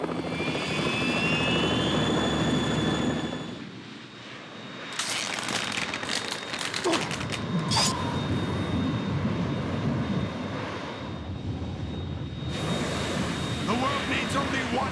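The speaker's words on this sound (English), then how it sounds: "Otacon, we're in trouble. It's the Harrier." A Harrier jet in the Metal Gear Solid 2 video game, a loud roaring engine with a whistling whine that fades briefly and then returns with bursts of blasts and crackles, with voices speaking over it.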